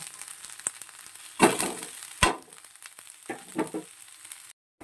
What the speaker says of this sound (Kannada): ಇದು ಹಸಿ ವಾಸನೆ ಹೋಗೋ ತನಕ ಚೆನ್ನಾಗಿ ಫ್ರೈ ಮಾಡ್ಕೊಳ್ಳಿ